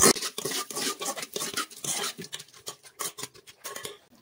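Prawns are stirred with turmeric and salt in a bowl, giving a close, irregular run of clinks and scrapes of utensil against the bowl over a few seconds.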